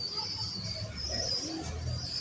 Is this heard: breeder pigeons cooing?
yes